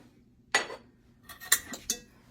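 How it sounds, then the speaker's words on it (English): A cast iron skillet set down on a stovetop makes a few sharp metallic clanks and knocks, one louder hit followed by three lighter contacts in a quiet kitchen. "I'm going to put in this skillet, this iron skillet that I've got."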